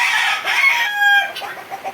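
Tiger breed chickens and a rooster on a farm in Bakshiganj, Jamalpur, cluck and call loudly and close, with overlapping squawks and a drawn-out crowing note in the middle.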